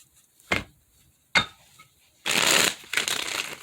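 Tarot cards shuffled close up: two sharp single card snaps, then a longer dense riffle followed by a second, shorter burst of papery flutter.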